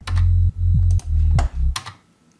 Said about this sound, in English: So first, let's dive into the sound design of the sub.